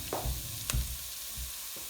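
A small onion frying in a pan to caramelize for biryani rice, a soft continuous sizzle with a couple of brief spatula taps, close and fairly quiet, no voices.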